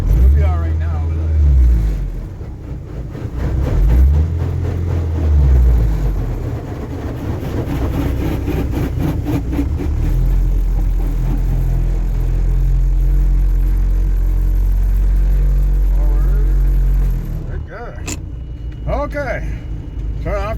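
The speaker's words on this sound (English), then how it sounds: "We're still idling, see? Engine's still running. Nice low RPM with that lumpy feel." A Dodge Challenger with a Mitsubishi 2.6 4G54 engine idles at low RPM with a lumpy note, heard from inside the car during rain, with a steady rumble under occasional talk and clatter.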